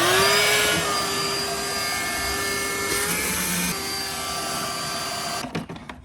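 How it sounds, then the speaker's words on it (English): A Shop Vac wet and dry vacuum draws water off a boat deck, its motor whining loudly and steadily with shifting tones as water is sucked up, then cutting out at the end. "I'm not sure if this is a wet and dry vacuum"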